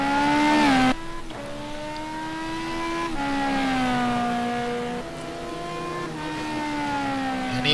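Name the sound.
GT2 race car driving at Spa-Francorchamps in racing video game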